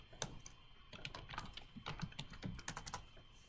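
Fingers patter on a computer keyboard, quick irregular keystrokes with a few backspace taps mixed in, soft and close with no voices.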